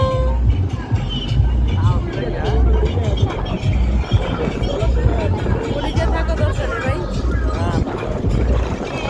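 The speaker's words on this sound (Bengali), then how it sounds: "কত লাউড মিউজিক, বাতাসের শব্দ, কীরকম একটা পিকনিকের মতন ভাব ছিল" Picnic boats on the river near Tulsikhali bridge: a loud, steady rumble of boat engines and wind mixed with crowd chatter and tonal sounds, continuous throughout.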